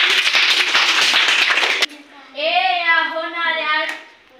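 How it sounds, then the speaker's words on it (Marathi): Group of children clapping in a classroom English lesson, a dense burst of fast overlapping claps lasting nearly two seconds, then a voice speaks alone. "ठीक आहे, टाळ्या वाजवा"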